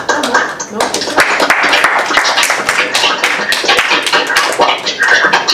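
A conference audience applauding the speakers, sustained dense clapping from many hands, loud and close throughout.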